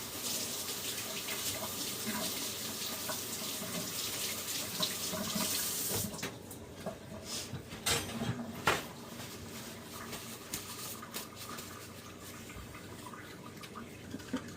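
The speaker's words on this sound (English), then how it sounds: "give my hand a quick wash" A kitchen tap runs as hands are quickly washed, first as a steady full stream for about six seconds, then as softer splashing and dripping with intermittent water movement.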